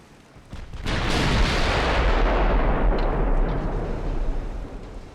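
Naval guns firing high-explosive shells at an enemy ship during a fleet battle in Ultimate Admiral: Dreadnoughts, set in an 1890s Italian campaign against the Ottoman fleet. A sustained, loud roaring rumble swells after a short quiet start, then slowly fades.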